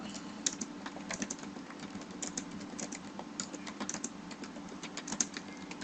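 Steady typing on a computer keyboard, a quick uneven run of light key clicks close by, with no talking over it.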